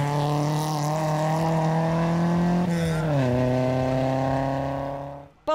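A race car at full throttle climbing the Falperra hill climb course, its engine a loud sustained howl that holds pitch, dips briefly at a gear change, then climbs again before cutting off abruptly.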